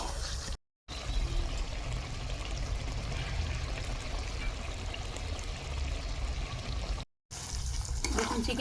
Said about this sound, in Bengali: এই যে মশলা জলটা বাটিতে ধুয়ে নিয়েছিলাম সেটা দিয়ে দিচ্ছি